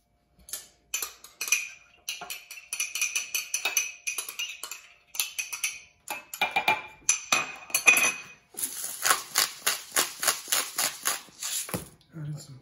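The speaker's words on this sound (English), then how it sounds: "we're just gonna put everything together into our nice little trusty mason jar" Salad dressing ingredients for a red wine vinaigrette going into a glass mason jar, a run of bright clinks, taps and pours against glass, with someone talking throughout.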